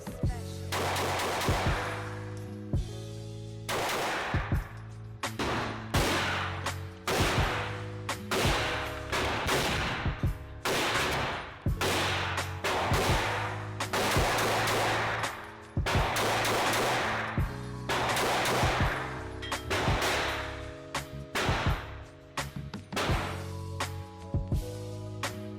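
A 9mm Taurus pistol fired at an outdoor gun range, a long series of loud, sharp single shots spaced a second or so apart, some in quick pairs, with steady background noise between them.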